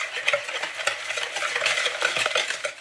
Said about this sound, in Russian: И перемешиваем все венчиком